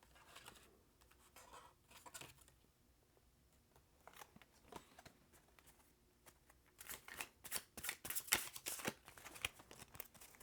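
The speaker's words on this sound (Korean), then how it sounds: "자, 그럼 연애운 카드 한 장 뽑아보도록 하겠습니다." Fortune cards are shuffled and one is drawn: soft papery riffles and taps, quiet and close, growing into denser flurries of crisp card slaps toward the end.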